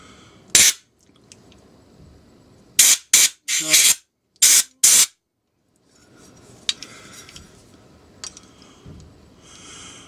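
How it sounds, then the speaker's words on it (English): Carb cleaner sprayed through the pilot circuit of a Mikuni 28SC carburetor from a Suzuki GT550, in several short loud hissing bursts close up, followed by quieter clicks and handling noises. "you can quite clearly see carb cleaner coming out of there"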